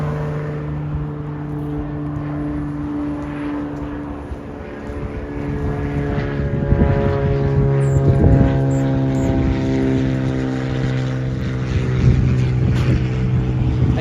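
Propeller airplanes drone overhead in a steady, sustained rumble with tonal engine harmonics, swelling somewhat louder in the second half, heard outdoors at a festival in Venice and Santa Monica, Los Angeles.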